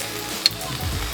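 Egg and scallion sizzle in a hot pan for vegetable fried rice, a soft steady frying hiss with a brief utensil clink near the start, close and without talk.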